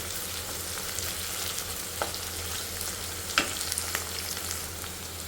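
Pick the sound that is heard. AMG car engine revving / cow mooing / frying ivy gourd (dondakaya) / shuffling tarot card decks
frying ivy gourd (dondakaya)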